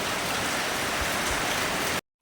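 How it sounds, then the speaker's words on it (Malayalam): Heavy rain pours down steadily in a garden on a rainy day, a dense, constant hiss of drops striking surfaces at close range with no talk, ending abruptly in brief silence near the end. "മഴ പെയ്ത് ഭയങ്കര മഴ പെയ്തിട്ട്"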